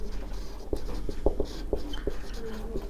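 Writing on a board in a physics lecture: quick close strokes and sharp taps in an uneven rhythm over a steady room hum, with no one speaking.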